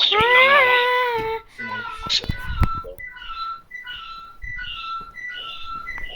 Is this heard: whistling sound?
yes